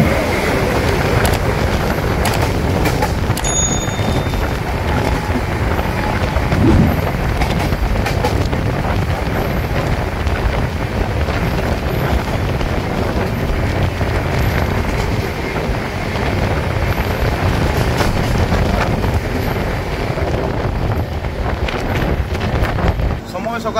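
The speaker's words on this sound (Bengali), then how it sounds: "ট্রেনের দরজায়, ওপার থেকে ছুটে আসা ট্রেনের অপেক্ষায়" An oncoming express train on the Kolkata-to-Jammu route thunders past, heard from the open door of a moving AC train car, with a steady roar of wheels and wind across the whole stretch.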